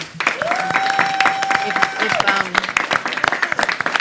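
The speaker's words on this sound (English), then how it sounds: "If we could hold our applause, we would get through this quicker." Crowd applause at a mayoral press conference with dense, steady clapping throughout, a voice talking over it and a sustained tone drifting through the middle.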